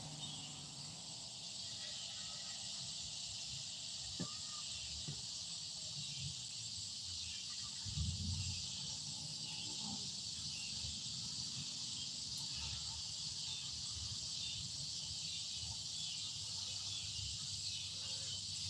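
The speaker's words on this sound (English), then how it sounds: "Now, them cicadas are really kicking up." Outdoors, a dense chorus of cicadas drones continuously and evenly throughout, a steady high shrill buzz with scattered low thumps and faint rustling beneath it.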